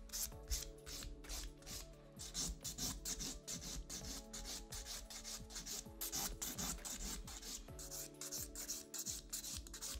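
A nail file rasps rapidly back and forth over an acrylic nail, shaping and bevelling a long square matte set in steady, close, continuous strokes with no talking.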